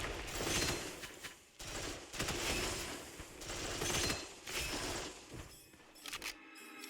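Gunfire in the shooter game Gunfire Reborn rattles out in dense, repeated bursts separated by short pauses, loud and continuous, with no voices.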